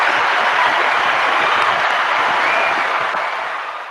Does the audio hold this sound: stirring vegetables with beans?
no